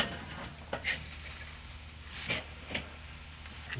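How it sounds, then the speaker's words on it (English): Hamburger buns toasting on a grill give a steady soft sizzle and hiss, broken by a few brief scrapes or clacks spaced about a second apart, with no voices. "Oh, and we're gonna toast our buns too. Put these on the grill."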